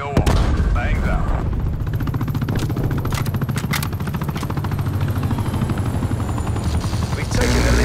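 A helicopter's rotor thumps loud and continuous throughout a Call of Duty Black Ops Cold War match, layered with bursts of gunfire and other battle noise.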